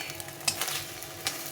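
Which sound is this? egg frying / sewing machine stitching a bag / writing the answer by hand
egg frying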